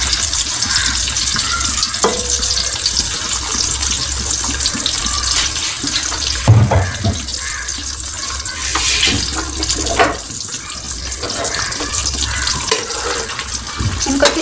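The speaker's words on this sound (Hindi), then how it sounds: "इनको अच्छी तरह से फ्राई कर लेते हैं।" Stuffed bitter gourds filled with minced meat fry in a large wok, a dense continuous sizzle with bubbling and occasional clatter, close and fairly loud, with no talking.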